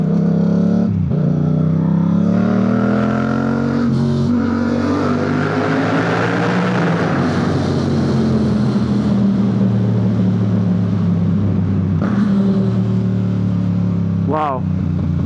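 A motorcycle and surrounding traffic roar loudly inside a road tunnel, a steady dense drone with engine tones rising and falling and one revving sweep near the end.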